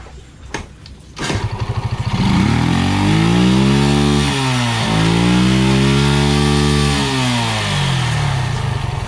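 Yamaha STX 125 motorcycle engine with a faulty CDI, starting with a few pops, then running loud and close, revving up and down twice with no high RPM, a steady buzzing idle between rises.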